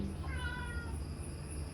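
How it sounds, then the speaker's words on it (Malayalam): A couple of thin, high kitten meows sound close by over a low background hum, quick and plaintive. "ഫുഡ് തരുമോ എന്ന് പറഞ്ഞിട്ട് പൂച്ചക്കുട്ടികൾ കച്ചറ ഉണ്ടാക്കാണ്"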